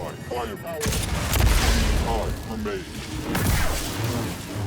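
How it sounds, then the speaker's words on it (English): Blaster bolt fire in the Star Wars Jedi: Survivor video game, a burst of sharp zapping shots and booming impacts mixed with a voice talking over the action. "I did the blaster bolt and not the force push"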